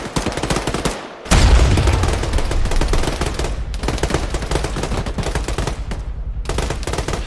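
Sustained bursts of automatic gunfire ring out during military squad combat training with the 506th Infantry Regiment, loud and continuous with one brief lull and a heavy blast near the start.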